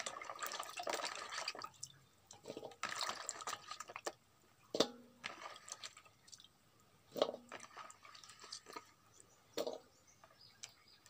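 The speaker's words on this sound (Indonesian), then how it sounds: "kita juga langsung cuci pucuk ubinya" Water splashes and drips in bursts, close by, as pumpkin and cassava leaves are washed by hand in a kitchen, with brief clinks and pauses between the rinses.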